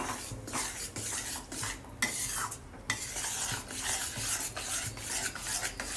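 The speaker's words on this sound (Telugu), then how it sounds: "ఇది ఉండలు లేకుండా కలుపుకుందాం." A spoon scrapes steadily around a pan of coffee Mysore pak mixture with sugar and oil, a loud, continuous, rhythmic rasping stir close by with no speech.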